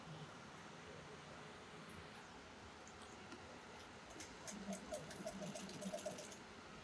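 A sewing machine stitches a border onto an angrakha frock, giving a faint, steady mechanical whir that grows slightly busier near the end, with soft background noise and a voice in the room.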